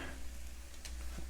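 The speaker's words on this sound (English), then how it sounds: "Start adding your stock. We're just going to keep stirring." Mushroom risotto simmers in a pan as stock is added and stirred, a low, steady bubbling hiss with one brief spoon scrape near the end.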